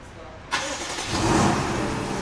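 A BMW X6 fitted with a whole new exhaust system starts up, a sudden burst at ignition settling into a deep, close rumble that swells slightly as it idles, with voices faintly present.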